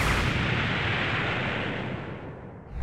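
A bomb fruit explodes in the Roblox game Blox Fruits: one loud, sustained blast of rumbling noise that holds for nearly three seconds and then fades, with no talking.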